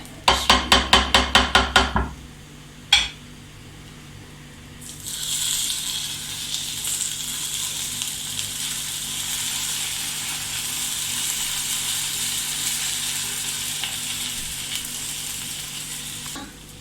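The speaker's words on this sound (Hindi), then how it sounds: "तड़का तैयार हो गया, ये मैं इसमें डाल देती हूँ।" Hot tempering of cumin seeds and thick green chilies is poured into a pumpkin raita and bursts into a loud, steady sizzle. A few sharp clatters of a spoon and pan come first, then the hiss runs on, close and alone.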